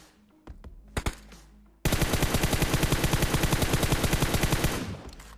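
Gunfire in the PUBG video game: a couple of single shots, then a long sustained burst of rapid automatic fire that runs loud and even for about three seconds before stopping.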